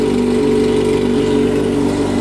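A Yamaha XJ6 motorcycle, checked in a workshop for possible engine seizure, idles close by with a loud, steady droning hum and rapid even pulses throughout, without any talking.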